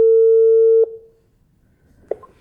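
A Hosmart intercom monitor unit gives one steady electronic tone that holds for under a second and cuts off with a click, followed by quiet room noise and another faint click.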